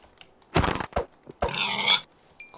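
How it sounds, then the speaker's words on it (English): Pigs in the video game Minecraft grunt in a few short, close bursts, with two quick snorts followed by a longer, drawn-out grunt. "More pigs, I can hear you."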